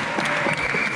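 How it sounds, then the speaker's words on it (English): Short burst of audience applause for a marimba player at an indoor percussion performance, dense and fairly close, with crowd noise mixed in. "Round of applause for Marcel"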